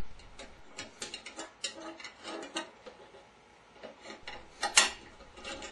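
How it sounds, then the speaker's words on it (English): Coat hanger wire being worked around the transmission pulley of a General Electric washing machine, producing close, irregular metallic clicks, scrapes and ratcheting taps, fairly quiet, with no voice. "Use a coat hanger wire to secure the transmission pulley in place."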